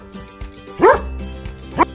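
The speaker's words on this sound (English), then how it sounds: "A dog says woof." A cartoon-style dog gives two distinct barks, one stronger woof near the middle and a shorter one at the end, set over light background music.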